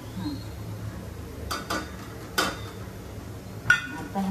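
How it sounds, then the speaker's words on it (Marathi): Masala spices are tipped into golden-brown onions in a pan for a mutton curry. A few sharp spoon clinks against the metal ring out over a low, steady kitchen hum, with only a faint sizzle. "आता हा कांदा झालाय गोल्डन ब्राऊन, सो मी त्याच्यात हे सगळे मसाले टाकते"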